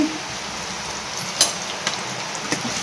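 Garlic and raw ginger paste frying with onion in a pan for a bitter gourd palya, a steady close sizzle with a few sharp clicks and taps of a utensil against the pan.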